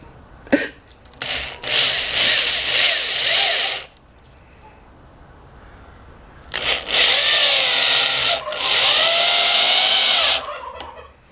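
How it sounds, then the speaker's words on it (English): A power drill drives screws into pallet wood while building canning shelves, with two long whining bursts of the motor rising and falling, separated by a quiet pause and a short sharp knock. "doesn't like the sound of power tools"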